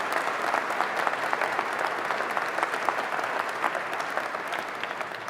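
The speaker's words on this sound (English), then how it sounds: "you can clap for that because that's something we're doing together" An audience inside an MHI advanced manufacturing plant claps steadily in dense, sustained applause, moderately loud and continuous for several seconds with no speech over it.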